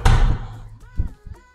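An apartment door in a two-room flat swings open with a loud close thump and rattle, followed by a couple of softer knocks from the handle and frame.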